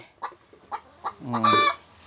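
Several soft, evenly spaced clucks from backyard laying hens lead into a louder, drawn-out squawk from a nearby chicken.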